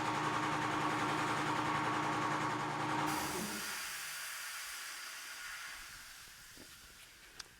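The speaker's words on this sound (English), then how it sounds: "Guess I could wait for the air compressor to stop running." An air compressor runs in a workshop during bushing work on a dirty 80-series Land Cruiser, giving a steady hissing, motor-driven drone that is loud at first, then drops and fades to a quieter background hum with a faint click near the end.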